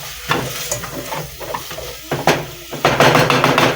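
A samosa filling is stirred as it fries in a pan, with scraping strokes and bursts of sizzle coming in uneven pulses that grow busier toward the end, close and fairly loud with no voices.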